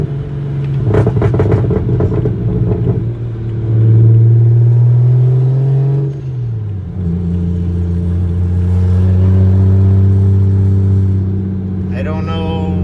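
Big single-turbo BMW 335xi with an N54 engine pulls hard through two long accelerating runs with a gear change between them, its steady engine drone loud and close inside the car, and a voice speaks briefly partway through.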